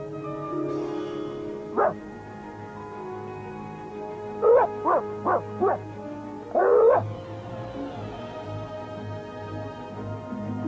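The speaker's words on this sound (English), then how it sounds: "Hey, dog!" An animated dog gives one short bark, then a quick run of four barks and a final pair of yelps over quiet background sound.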